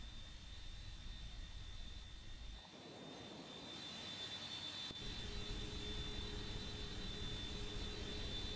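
Jet airliner engines spooling up for takeoff in the Roblox Aeronautica flight game, a faint steady whine that swells into a broader roar partway through, with no voices.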